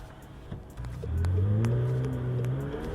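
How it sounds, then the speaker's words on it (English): A McLaren 720S with a 4-liter twin-turbo engine under way from inside the cabin, its tone rising as the car accelerates, then holding at a smooth, steady drone. "The all-new 4-liter engine features electrically actuated twin-scroll turbochargers"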